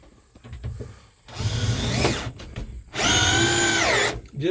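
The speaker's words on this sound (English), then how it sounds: "Then we're going to screw this piece of plywood" Power drill driving screws to fix a piece of plywood in a DIY truck camper bed, in loud whirring bursts with short pauses between them. Someone speaks faintly between the bursts.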